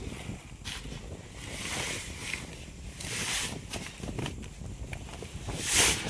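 Strong gusty wind buffeting outdoors while millet grain is unloaded, a rough roaring rush that swells and fades in waves.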